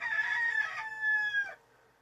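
A rooster crows once in the Colorado highland desert, a loud, close, drawn-out cock-a-doodle-doo lasting about a second and a half before breaking off into quiet.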